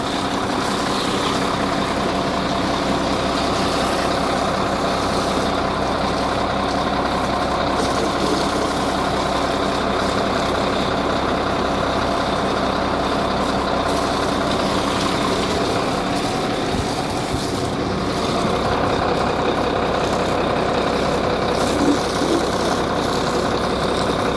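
A cement mixer truck's engine idles steadily and loudly throughout, a constant rough rumble with a faint knocking texture and no voices.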